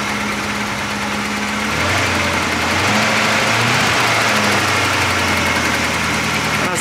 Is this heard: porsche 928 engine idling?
yes